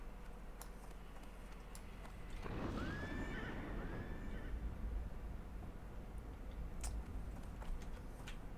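A fiery horse mount in World of Warcraft Classic lets out one loud, wavering whinny near the start, with hoof clip-clops under a steady game background hum.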